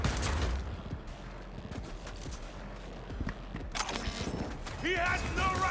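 Gunfire in the video game Cyberpunk 2077, sharp bursts of shots scattered through a busy battle mix, with voices shouting over the action.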